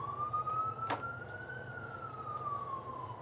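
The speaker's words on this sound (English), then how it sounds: "That's not the ambulance, that's the cops." A police car siren wails with a slowly rising and falling pitch over low traffic rumble, fairly distant, passing by, with a sharp click partway through.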